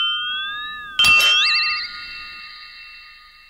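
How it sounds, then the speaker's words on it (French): An electronic doorbell chime built into a doormat sounds a gliding two-tone melody, then a sharp clinking burst, then a warbling sustained ring that slowly fades, loud and close. "un paillasson qui pourrait servir de sonnette"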